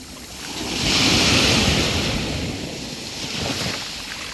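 Mediterranean Sea waves wash and roll onto a natural beach at Mataró, outside Barcelona, a broad surging hiss that swells and fades with wind rushing across the microphone.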